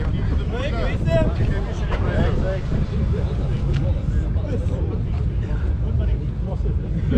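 Strong wind buffets the microphone outdoors with heavy, low rumbling gusts that never let up, while people talk underneath the constant blustering.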